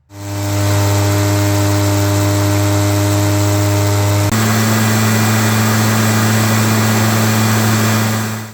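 Two backpack leaf blowers, a Wild Badger 53CC and a Husqvarna 150BT, run close and loud as a steady droning whine, with the pitch shifting partway through as the other machine is heard.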